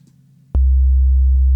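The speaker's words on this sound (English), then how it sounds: "So let's get a waveform. Sorry, so a sine wave." A steady, loud sine wave test tone from music software switches on abruptly and holds constant, with a faint click near the start.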